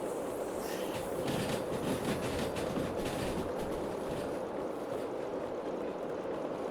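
A British 0-6-0 steam locomotive hauling cars in the Derail Valley video game, a steady rumbling roll with rhythmic chuffing texture and rail clatter, continuous and moderately loud with no talk over it.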